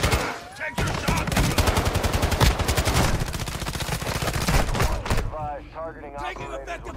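Dense automatic gunfire in the Call of Duty DMZ video game, rapid bursts rattling nearly nonstop at close range for several seconds, with voices talking over it toward the end.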